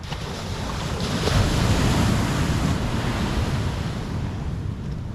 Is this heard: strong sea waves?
yes